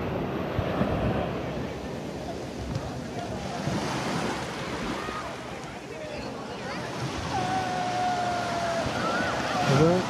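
Waves break at Half Moon Beach in Gokarna, a small beach busy with water sports, and wind buffets the microphone. The surf makes a steady wash, and a faint boat engine or siren-like tone rises near the end.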